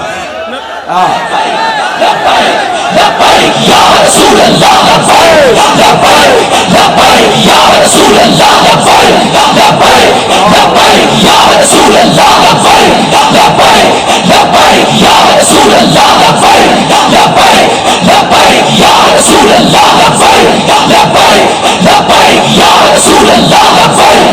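A large crowd at a religious gathering chants Labbaik slogans, a loud, massed roar of voices that starts after a brief quiet moment and holds steady and overwhelming throughout.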